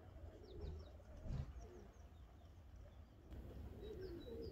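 Pigeons cooing outdoors with soft low coos and a few faint chirps over a steady background hum, distant and quiet.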